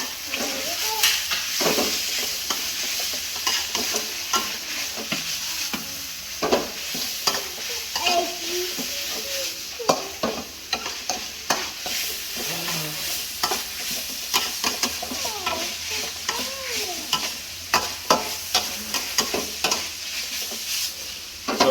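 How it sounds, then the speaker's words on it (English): Thai basil stir-fry being tossed and mixed in a hot pan, with steady close sizzling broken by repeated scraping and clattering strokes of the utensil against the pan. "Now it's time to put the basil in, the final ingredient."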